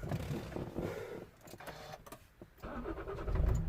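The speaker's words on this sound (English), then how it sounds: "Engine running." A Toyota RAV4 manual engine cranks and catches after a keyless start repair, then settles into a low steady idle, heard from inside the vehicle with faint clicks and whirs.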